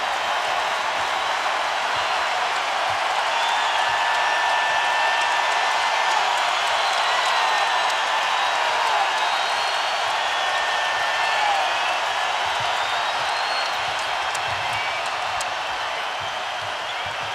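A packed basketball arena crowd at a 2011 NBA playoff game between the Boston Celtics and Miami Heat roars in a steady, sustained wall of cheering and faint whistles, heard from a distance with no clear talk.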